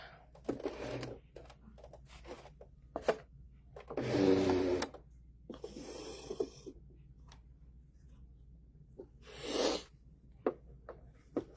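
A sewing machine zigzag stitches rope onto a holiday rope bowl, running in several short separate bursts with quiet handling clicks and pauses between them.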